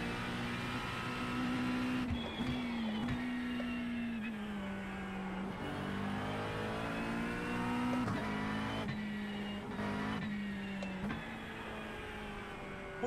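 Engine of a new McLaren race car in the ACC (Assetto Corsa Competizione) racing game, a steady high tonal whine rising and falling with throttle and gear changes, with sharp shift breaks, heard alone without talk.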